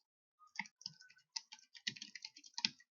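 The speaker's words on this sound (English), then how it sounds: "I'll begin typing" Keys clatter on a computer keyboard in short irregular bursts of clicks, close and crisp against a quiet background, while a school subject name is entered into a database form.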